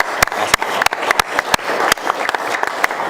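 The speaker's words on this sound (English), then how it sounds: "let's give a round of applause and congratulate Lisa and the museum board" At a city council meeting, an audience applauds the museum board with loud, uneven clapping, and sharp individual claps snap out close to the microphone above the general patter.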